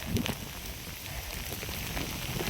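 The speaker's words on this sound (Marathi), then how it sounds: "पाऊस चाल झाला चांगला" Steady rain pattering on a surface, a dense continuous hiss with a few louder drops near the start.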